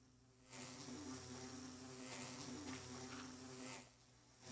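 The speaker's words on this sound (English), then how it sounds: "Is there a swarm of bees?" A swarm of bees in the Minecraft video game gives off a loud, dense buzzing drone. It swells in after a quiet start, holds steady for several seconds, then eases back down.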